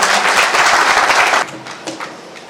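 A crowd claps loudly for over a second, then the applause cuts down to a few scattered claps.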